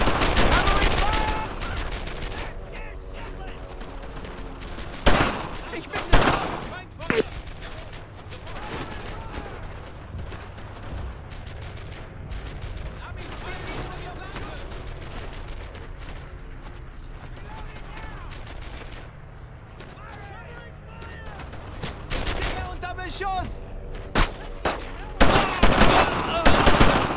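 Rapid bursts of rifle and machine-gun fire in the WWII shooter Brothers in Arms: Earned in Blood, with heavy shots cracking near and far over a steady combat din, while voices shout orders throughout.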